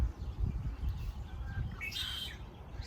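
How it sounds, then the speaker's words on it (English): A red-winged blackbird calls loudly during an early March birding walk near Vancouver, BC, with a bright burst of song near the end over a low, steady outdoor rumble. "the really loud caller there is red-winged blackbird"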